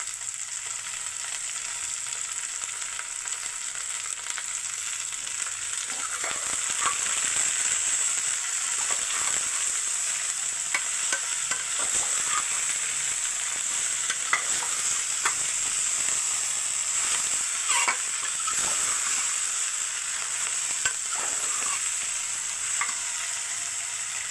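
Fenugreek leaves fry in a pan with a constant bright sizzle, while scattered scraping clicks from stirring come and go throughout at moderate loudness.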